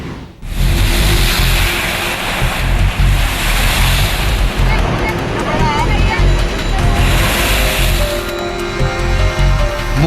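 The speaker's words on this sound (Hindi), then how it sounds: "शोर मचाती हुई लहरें तेजी से आती हैं और फिर ऊंचाई को छू जाती हैं" High tidal surf crashing continuously onto the Mumbai sea shore in strong wind, a loud, sustained roar of breaking water with wind buffeting throughout.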